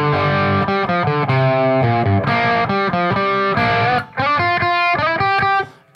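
An electric guitar with heavy distortion plays a solo straight and clean in timing, with fast runs of bright, sustained notes and brief pauses, loud and close with no talking.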